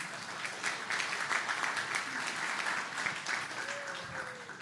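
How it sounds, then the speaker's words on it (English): Audience applauding on cue during a joint session introduction, steady broadband clapping throughout, moderately distant and soft, with a faint tonal whistle or feedback near the end. "So everybody look at him and clap."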